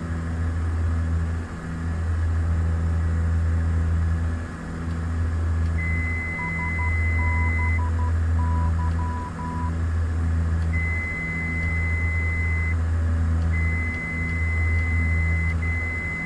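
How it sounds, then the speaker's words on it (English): Autopilot disconnect warning in MS Flight Simulator 2004: a loud, high electronic tone sounds in long repeated bursts, with short chirping beeps between them, over a steady low aircraft engine drone. "that loud beep means I shut the autopilot off"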